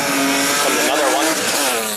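A drift car passes on a racetrack at a drift event, its engine loud and sustained with a rising and falling engine note, while people talk over it.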